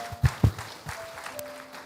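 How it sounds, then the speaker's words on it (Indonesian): A church congregation gives a brief burst of applause, a few sharp claps standing out early and then fading into scattered, softer clapping in a reverberant room. "Boleh berikan tepuk tangan yang luar biasa"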